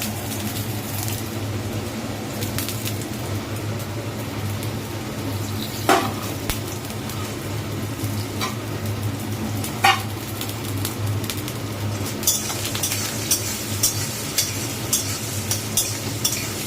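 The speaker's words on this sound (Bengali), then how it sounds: "এইটা একটু ভাজবো" Chopped ginger fries in a pan for a vegetarian lentil tarka, giving off a steady, close sizzle with occasional sharp clinks of a spoon stirring against the metal.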